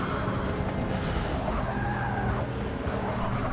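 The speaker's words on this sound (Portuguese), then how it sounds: "Dando mais escorregadas aqui." Tires of a 2012 Pagani Huayra slide and squeal through a corner at Spa in the Forza 6 Apex racing game, a sustained skid over a constant engine roar.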